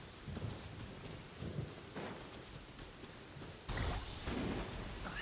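Rain hiss with rolling thunder from Genshin Impact, steady downpour throughout and a sudden louder crack of thunder near the end, with softer rumbles earlier.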